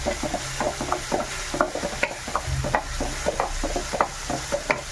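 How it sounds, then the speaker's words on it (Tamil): Onions sautéing in plenty of oil in a pan, with a steady close sizzle broken by repeated scraping and stirring strokes of a spoon against the pan, and no voices. "வெங்காயம் வந்து நல்லா வதக்கணும்."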